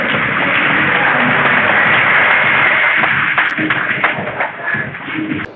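Applause from a school audience for a top-scoring SSC pre-board student at a results ceremony, loud and dense for several seconds, thinning into scattered claps with shuffling and light murmur toward the end.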